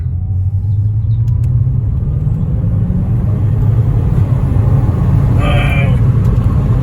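A performance Vauxhall Insignia saloon pulls away hard, its engine giving a loud, sustained low rumble that builds steadily from inside the cabin, with no talk over it.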